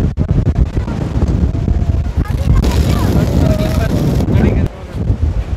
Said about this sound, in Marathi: जोरदार हवा सुटली आहे मित्रांनो.